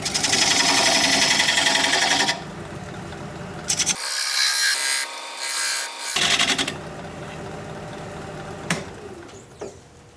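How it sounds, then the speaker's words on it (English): A wood lathe spins a bowl blank while a 3/8 inch bowl gouge cuts it, giving a loud, steady scraping hiss that breaks off into a low hum, then resumes in shorter bursts. "I'm going to switch to a 3/8 inch bowl gouge so I can get in there tighter."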